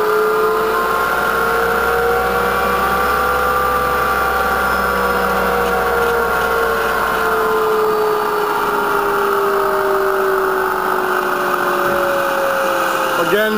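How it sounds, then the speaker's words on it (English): A 10 x 52 inch Cleveland milling machine with a 4 horsepower variable speed head runs loudly and steadily, its whine sliding in pitch as the speed changes, with a person speaking over it. "We're going to go ahead and run through the variable speed head."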